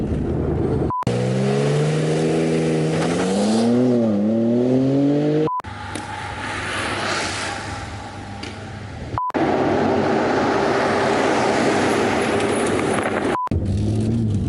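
A BMW M3 G80 engine revs and accelerates hard during a 0-60 run, its pitch climbing and dropping through gear changes, loud and close with brief cuts between segments.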